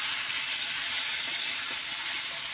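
Drumsticks, potatoes and plantain sizzle in hot spiced oil, a steady, even frying hiss throughout with no pauses, close and moderately loud.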